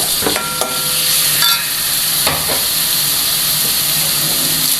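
Crushed garlic, ginger and shallots fry with chopped green chilies for a beef curry, making a loud, close, hissing sizzle with a few scraping stirs near the start.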